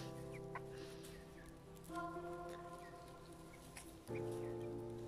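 Broiler chickens from a flock of about thirty-five, some five weeks old, cluck and murmur steadily as they wander around a farmyard near their coop, with a few louder calls standing out against a constant low background.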